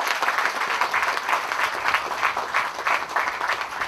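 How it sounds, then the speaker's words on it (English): A crowd at the opening of a road in Guyana applauds, with clapping that swells in a loose, rhythmic pulse, as if partly in unison, steady and fairly close throughout. "Then I want to hear you applaud this."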